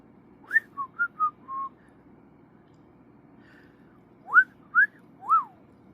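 A pet parrot whistles a series of short, bright chirping notes, four quick ones in a row, then a pause, then three louder rising whistles, close and clear over a faint low hum.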